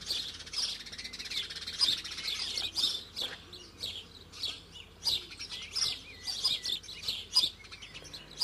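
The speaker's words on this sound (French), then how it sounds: "Le moineau est avant tout un oiseau percheur, bien qu'il se nourrisse volontiers à terre." House sparrows chirp in a busy flock in Côtes d'Armor, bright overlapping tweets and squawks repeating rapidly throughout, fairly close with no voices.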